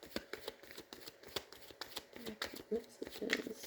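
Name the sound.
tarot cards being shuffled and drawn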